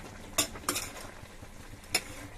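Cauliflower being stirred with salt and turmeric in a pan, giving three short scraping clinks of a spoon against the metal at uneven intervals over a quiet background.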